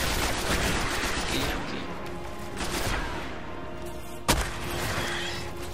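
Dense bursts of gunfire in the Destiny beta on Xbox 360 crackle almost continuously, with one sharp louder shot near the end, and a voice speaks faintly underneath.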